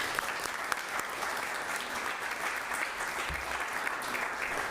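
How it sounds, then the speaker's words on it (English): A room of council-meeting attendees applauds steadily, a dense even wash of many hands clapping at moderate distance, holding at a constant level for the whole span. "Can you please give my folks a round of applause?"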